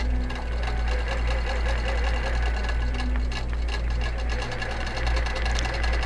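A QBOT quilting robot drives a sewing machine stitching a quilt square, giving a continuous fast mechanical whir and needle chatter close by, steady throughout with a faint motor hum beneath.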